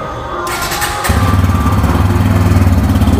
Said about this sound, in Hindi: इसका जो है एग्जॉस्ट नोट सुनाते हैं, इनलाइन इसमें आपको एग्जॉस्ट नोट मिल जाता है अंदर की तरफ, और इसको हम स्टार्ट करते हैं